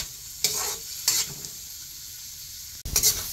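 Ginger and onion sizzle in a pan for chicken pochero, with a steady low fry. Sharp bursts of stirring and scraping stand out three times over the sizzle.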